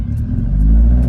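The engine of a 1979 Fiat 124 Spider 2000, fitted with a new ignition coil and running roughly, gives a brief, close, steady rumble with a slight rise as it is revved a little.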